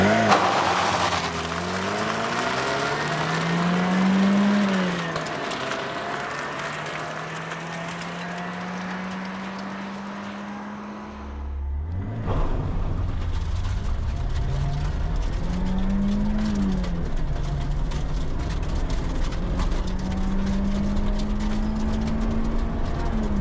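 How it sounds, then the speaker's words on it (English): A 1993 Nissan NX2000 with an SR20 engine and limited-slip differential driven on loose gravel at a construction site, the engine rising and falling through revs over crunching gravel, with a brief lull before it pulls away again. "NX2000 on loose gravel."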